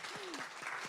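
An audience at a zine festival talk claps briefly, a quick burst of overlapping hand claps in a small room, with a voice faintly beneath.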